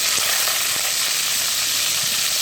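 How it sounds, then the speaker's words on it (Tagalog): Liempo pork belly fries in hot oil, a loud, steady, close sizzle and hiss that runs without a break. "Kailangan natin i-prito sa mantika."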